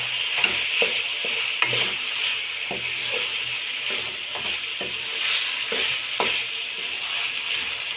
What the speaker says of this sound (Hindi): अब हम इसमें डालेंगे मैकरोनी। अच्छी तरह से इसे मिक्स कर देंगे